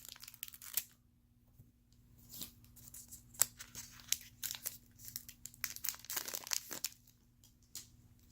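Pokémon TCG booster pack wrappers from a Sun & Moon Unbroken Bonds Elite Trainer Box crinkle and tear open close up in irregular bursts of crisp, papery rustling with brief pauses between them.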